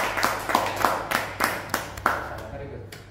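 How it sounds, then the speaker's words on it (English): Workshop audience clapping for a presenter, a sparse rhythm of about ten distinct claps at a steady pace, fairly close and moderately loud, trailing off at the end. "Let's give applause for Ahmed."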